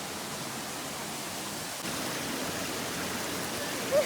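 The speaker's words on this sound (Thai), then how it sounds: "เหมือนคล้ายๆน้ำตกเล็กๆอะไรแบบนี้" Steady broadband rush of water spilling like a small waterfall in a Shan village, constant and fairly close, with no talk.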